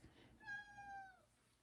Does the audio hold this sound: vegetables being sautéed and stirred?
no